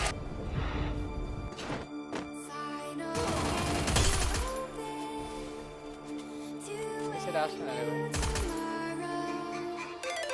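Rapid bursts of MP40 submachine gun fire in the Free Fire battle game, loud and close, with heavy impacts and crashes between volleys over a busy game soundtrack.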